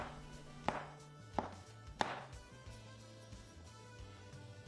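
Knife chopping through Napa cabbage on a cutting board for shrimp egg drop soup, three distinct crisp chops spaced about a second apart over a quiet kitchen background.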